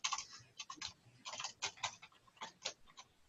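Bursts of fast, uneven typing on a computer keyboard, close and crisp, with short pauses between clusters of keystrokes and no talking.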